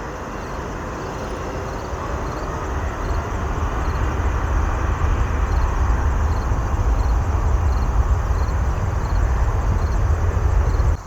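An Atlas Air Boeing 747-8 at Chicago O'Hare produces a broad, steady engine roar that swells gradually and holds loud, heard from a distance outdoors with no talking.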